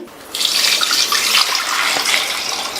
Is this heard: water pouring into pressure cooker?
yes